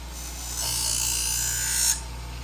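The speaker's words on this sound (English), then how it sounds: "Wow, cuts so much faster than the, or grinds so much faster than the stone wheel." A diamond wheel on a Wolfe Industries Twice As Sharp scissor sharpener grinds steadily for over a second, a close, bright whirring hiss over a low motor hum that stops abruptly.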